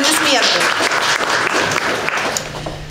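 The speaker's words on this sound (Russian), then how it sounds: "Аплодисменты" Audience applause at a Russian talk-show style debate stage, steady and fairly loud clapping filling the whole stretch, with voices mixed in underneath.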